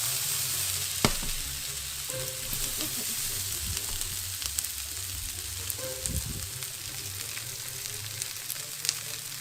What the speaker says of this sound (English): Cook it up in the pan. Flip it around, get all fancy.